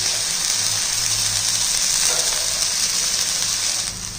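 Chicken cutlet frying in oil in a pan, a steady, close hiss and sizzle that holds evenly throughout with no talking.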